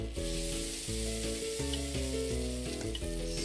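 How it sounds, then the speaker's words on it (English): Ingredients sautéing in a pan, a steady loud sizzle with faint stirring scrapes and a layer of repeating electronic tones, likely from a cooking game. "add in the ingredients and sauté without burning"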